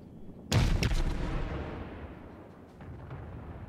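Naval gunfire from the cruiser Königsberg in World of Warships, one sudden loud broadside blast followed by a quick second report, then a long rumbling decay with faint distant thuds.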